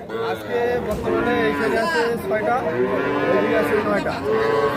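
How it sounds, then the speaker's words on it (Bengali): Young calves moo repeatedly at a village cattle market in Ambari, their overlapping calls running continuously over a busy background of crowd chatter and voices. "আর ছোট ছোট বাছুর যেখানে কেনা বেচা হচ্ছে আমরা সেই জায়গায় রয়েছি সামনে দেখছি বেশ কিছু ছোট বাছুর"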